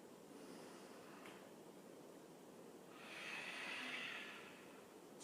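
Slow breathing during a yoga forward fold, a soft airy exhale that swells and fades gently, close and quiet with no talk.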